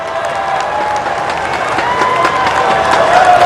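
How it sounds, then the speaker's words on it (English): A stadium crowd applauds steadily for Malaysian athletes at the end of the 20-kilometre race walk at the 2017 SEA Games, a dense, sustained wash of clapping and cheering. "the Malaysians being applauded for their efforts in the 20-kilometre race walk"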